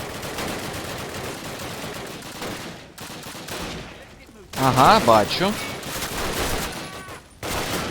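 Call of Duty gunfire rattles in bursts of rapid shots, with a louder, denser volley midway, while someone talks over the fighting.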